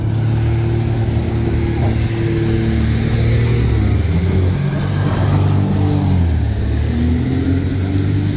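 A fishing boat's engine revs steadily and loudly at sea as a boat race begins, with a sustained drone and shifting pitch throughout and no talk.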